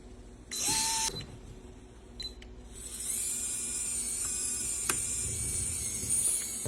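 A Carbon Works servo winch hoists 20 pounds of batteries, giving a few short mechanical clicks and whirs before settling into a sustained high-pitched motor whine as the load rises.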